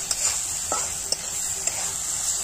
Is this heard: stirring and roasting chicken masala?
yes